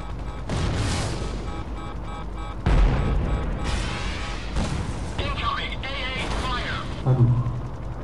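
Anti-aircraft fire in the mobile video game Drone 2 Air Assault, heavy booming blasts and rumbling impacts under loud game voice lines and talk, with a few sharp bursts standing out.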